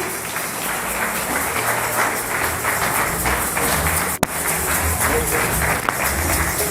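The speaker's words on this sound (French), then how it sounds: "Quand il monte l'église, nous acclamons pour la gloire de notre Seigneur Jésus" A church congregation applauding, steady dense clapping from many hands held at an even level throughout, with a few sharp taps standing out.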